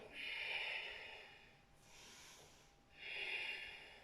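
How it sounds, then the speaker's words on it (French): Slow, deep breaths during a beginner vinyasa yoga sun salutation: a long airy exhale, a quieter pause, then another strong breath, close and alone with no talking. "J'inspire, j'expire."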